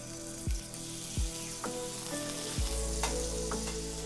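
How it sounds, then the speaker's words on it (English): Meat sizzles loudly in a preheated frying pan, with a steady crackling hiss throughout and several sharp thumps as pieces are laid down one after another. "Ah, you can hear it sizzle."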